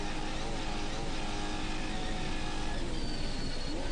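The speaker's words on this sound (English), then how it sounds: "You can hear that engine roaring." Off-road race vehicle engine roaring at the Baja 400, a dense, continuous loud drone with engine tones shifting slightly, heard with no other sounds.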